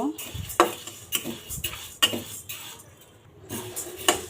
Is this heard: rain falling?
no